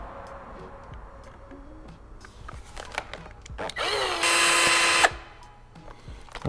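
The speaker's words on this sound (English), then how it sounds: "from the other side I'm going to go here and drill a hole." A power drill bores a hole during a clip-on handlebar install on an Aprilia RSV4 with a Melotti triple clamp, whining loudly for about a second in a steady high burst after quieter clicks and handling noises.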